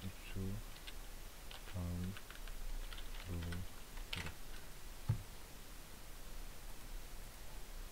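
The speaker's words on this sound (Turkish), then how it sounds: "lap lap lap klavye vuruyor da olabilirim" Typing on a computer keyboard, scattered soft key clicks against steady background hiss, quiet and close, with brief bursts of speech between the keystrokes.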